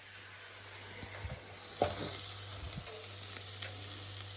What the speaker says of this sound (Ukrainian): Смажу кабачочки